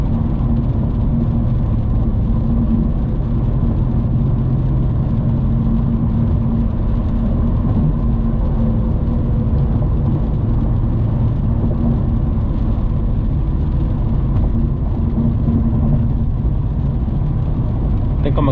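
A Mercedes C63s cruises along Miami's Interstate 95 on new tires, with a steady low road-and-engine drone that holds evenly throughout and no break.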